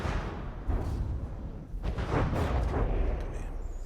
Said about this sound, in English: We're taking some heavy anti-armor rounds right to the face here.